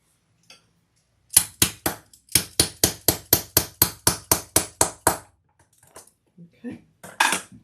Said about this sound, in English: Let's turn that over and put a rivet there right in the center.